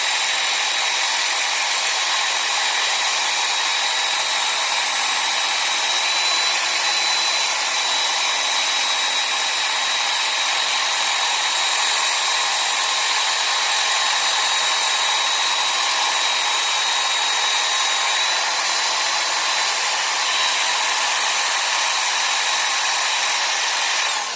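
A grinder sharpening a steel broadhead blade gives a continuous, bright, hissing grind with a high whine, loud and unbroken for over twenty seconds with no talking.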